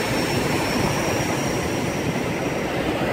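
Many trucks idle their engines at a California truck stop at night, a steady, unbroken diesel drone that fills the air evenly with no voices.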